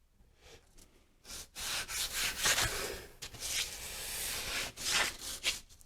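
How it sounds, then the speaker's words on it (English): Bent wood pieces sanded by hand for a final finish, producing bursts of coarse rubbing strokes, loud and close, in an irregular back-and-forth rhythm with brief pauses between passes. "for the last finish operation, there's nothing like hand sanding"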